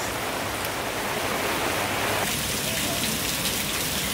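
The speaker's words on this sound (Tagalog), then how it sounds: "Ang lakas na lang ulan guys." Steady heavy rain pouring down, a dense hiss that continues unbroken throughout.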